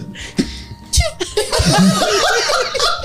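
A small sneeze bursts out amid laughter and giggling from people nearby, with some breathy sounds around it.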